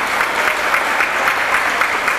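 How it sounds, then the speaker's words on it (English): Applause at a Thanksgiving luncheon, a steady, fairly close patter of many hands clapping with a rhythmic pulse running through it. "She needs a round of applause."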